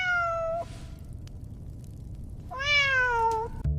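A cat gives two clear, drawn-out meows separated by a short pause, close and distinct over quiet background hiss.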